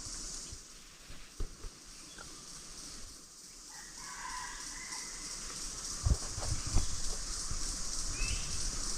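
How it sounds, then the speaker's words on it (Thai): A rooster crows at a distance in a forest during a fishing trip, a faint call rising over a steady hiss of insects or wind, with a few nearer knocks and rustles. "ไก่ขันอยู่พุ่น"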